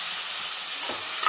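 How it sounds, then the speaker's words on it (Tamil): Chopped tomatoes fry and sizzle in a pan with onions and whole spices for a chicken curry, a steady soft hiss with no voices. "நல்லா குழைய வதக்கணும்."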